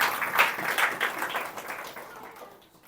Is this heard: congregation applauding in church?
yes